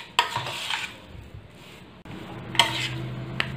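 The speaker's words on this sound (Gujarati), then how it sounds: "આપણે ગોળને સરસ એકરસ થાય તેવો મિક્સ કરી લેવાનો છે." Jaggery mixture for sukhdi being stirred in a pan, with a few sharp spoon-on-metal clinks and scraping over a soft background sizzle, close and moderately quiet, no talking.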